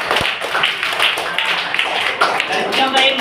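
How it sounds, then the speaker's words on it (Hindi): Children in a classroom clap their hands together in quick, regular beats, close and fairly loud, while a teacher's voice talks through the clapping. "ताली बजाओ।"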